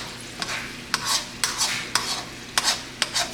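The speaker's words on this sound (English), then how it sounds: "Stir this up a little bit with the onions and the garlic." Onions and garlic are stirred in a pan for meatloaf. A utensil scrapes and taps in regular strokes, about seven close, crisp swipes over a light sizzle.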